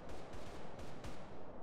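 Rapid bursts of gunfire from GTA San Andreas, a run of several sharp shots in quick succession, loud and close with a dense, crackling game mix underneath.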